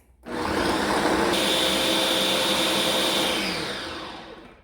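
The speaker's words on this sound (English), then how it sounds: "Put it in our high-speed blender and blend it up for puree for 60 seconds." A high-speed blender purees a banana, a loud steady motor whir starting abruptly and running continuously before easing down at the end, with no talking.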